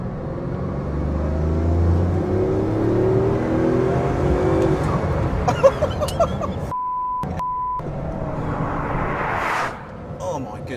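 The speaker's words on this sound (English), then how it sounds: "The way this car accelerates is absolutely mind-blowing." A Bugatti Veyron Super Sport accelerates hard, its engine a loud, steady rising roar from inside the car, with a short electronic beep partway through and a brief shift at the end.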